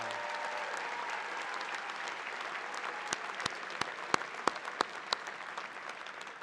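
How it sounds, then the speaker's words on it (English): A commencement crowd applauds the class of 1965 steadily, and a handful of loud, close claps pop out over the wash in the second half. "Ladies and gentlemen, one more round of applause for the class of 1965."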